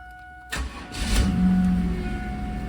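A 1996 Chevy Camaro with a 3800 V6 and 160,000 miles cranks briefly and fires right up, settling into a steady, close idle with a slight rev as it catches.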